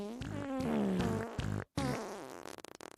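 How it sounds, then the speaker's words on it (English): A comedic fart-noise song: a run of pitched, rubbery fart sounds that rise and fall like a melody, continuous and fairly loud, broken by a short silent gap and ending in a rapid sputtering burst. "A beautiful, complete fart song."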